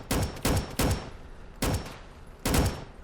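Rapid bursts of gunfire from a gun in a video game, several loud sharp volleys in quick succession with short gaps between them, close and dominant with no talk.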